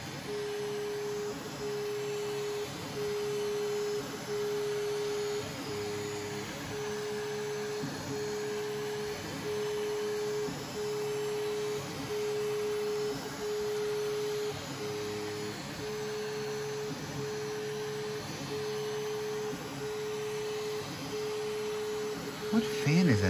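Part cooling fans on a 3D printer toolhead run at 75%, giving a steady whirring drone with a clear whine, a faint regular ticking and a small clunk at the very end.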